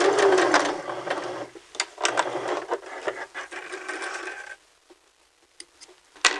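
A sewing machine runs in bursts while backstitching along a fabric seam, its rapid needle chatter loud and close with brief pauses and a few faint taps at the end.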